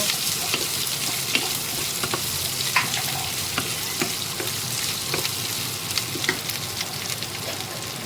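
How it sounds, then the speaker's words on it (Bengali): Chopped onions fry in hot oil, giving a loud, constant sizzle close up while a spatula stirs them with small scattered scrapes and taps; nobody speaks. "এর মধ্যে দিয়ে দেব আমি কেটে রাখা পেঁয়াজ। পেঁয়াজটাকে তেলের সাথে ভালোভাবে নাড়িয়ে নেব।"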